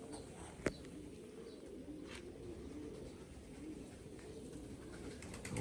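Soft, low pigeon cooing repeats in the background, with a sharp click near the start and faint scattered noises.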